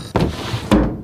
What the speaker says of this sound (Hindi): पीछे का एक दरवाजा खुलता है